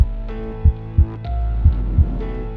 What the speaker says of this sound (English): I could see the heart beating within their chest.